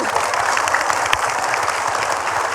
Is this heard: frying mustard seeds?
no